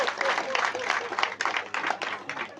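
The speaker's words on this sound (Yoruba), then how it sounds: "Ẹ bá mi pàtẹ́wọ́ fún gómìnà." A crowd applauds the governor at a peace meeting in the town of Fasola, steady dense clapping lasting the whole stretch, with voices mixed in underneath.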